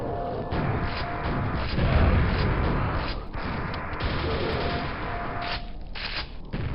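Rapid gunfire in Quake during a summer jam map, dense loud bursts of shots and impacts with booming hits layered over a constant rumble, continuous and close.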